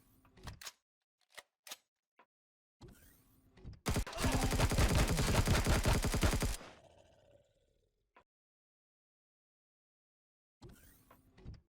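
Turrets in Empyrion Galactic Survival let loose a rapid automatic burst lasting a few seconds, loud and dense, surrounded by sparse short clicks and quiet gaps.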